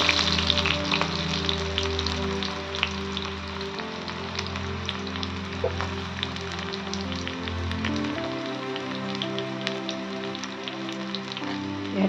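Onion dropped into hot oil already used for frying potatoes, giving a dense, steady sizzle and crackle at close range with no voices.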